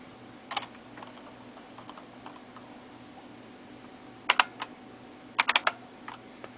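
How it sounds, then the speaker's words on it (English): Keys clatter on an old computer keyboard in short bursts, a few isolated taps followed by quick clustered strokes, close-up over a low electrical hum. "gonna start WordPad to show that that your old keyboard will work on the new computer."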